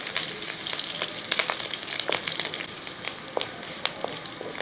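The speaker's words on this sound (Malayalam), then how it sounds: "വെളുത്തുള്ളി ഇതെല്ലാം ഒന്ന് മൂക്കട്ടെ" Garlic, dried red chillies and curry leaves fry in hot oil for a garlic rasam, giving a steady close crackle and sizzle broken by sharp pops and spits, with no voices.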